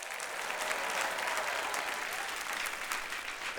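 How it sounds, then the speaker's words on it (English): An audience applauds the judges of a show with steady, sustained clapping heard from a distance throughout, with no talk over it. "Please, one more round of applause for our 3 judges."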